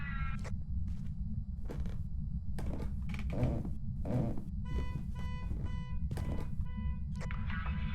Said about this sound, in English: Car alarm just went off.